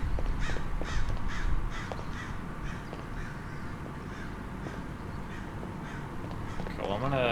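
Crows caw repeatedly in the horror video game Liminal City's abandoned city ambience, a run of calls early on, then quieter scattered ones over a constant low drone, with a brief rising tone at the end.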